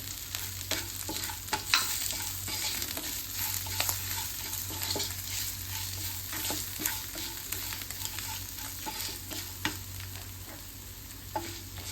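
Chilli flakes, chilli powder and turmeric fry in oil for a Malayalam-style tomato chutney, a steady close sizzle with scrapes and light clinks of a spoon stirring the pan throughout, no talking.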